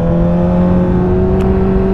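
A 1998 Suzuki GSX-R 750 SRAD motorcycle engine running hard, a loud, close, steady high-pitched drone that holds an even pitch throughout.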